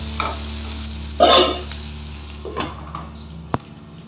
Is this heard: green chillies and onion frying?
yes